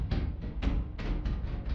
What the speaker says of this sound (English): That is the sound of a monster coming out of the vents.